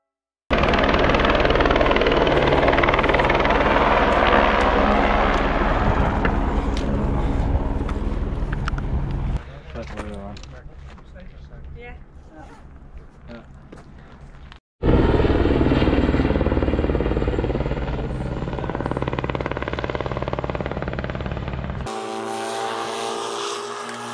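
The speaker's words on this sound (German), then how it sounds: "Der Helikopter bohrt sich gerade in den Felsen rein." A helicopter roars loudly and close near a rocky Alpine pass, its thudding rotor and engine noise dipping briefly, then surging back strong with wind buffeting the microphone.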